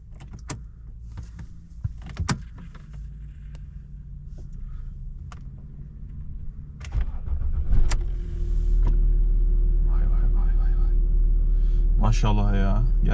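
A Jaguar S-Type with a 2.7D V6 diesel engine cranks and catches after some clicks and handling noises, then settles into a steady, loud idle rumble, with someone speaking briefly over it.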